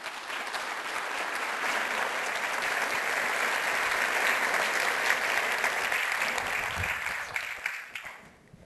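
A lecture audience gives sustained applause welcoming Professor Tokieda, a dense wash of clapping that swells, holds for several seconds, then tapers off quickly at the end.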